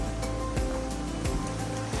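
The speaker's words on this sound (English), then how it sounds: "Look at this river." A small river in a ravine along a Lake County, Florida trail near a little waterfall gives off continuous rushing, splashing water, steady and close.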